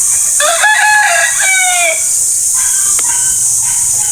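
A rooster crows loudly and close by in a backyard chicken pen, followed by softer clucking from the flock over a steady high hiss.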